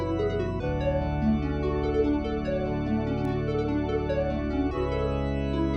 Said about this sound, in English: Next thing I added was this pluck.